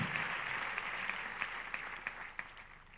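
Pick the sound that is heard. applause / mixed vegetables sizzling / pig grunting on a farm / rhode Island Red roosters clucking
applause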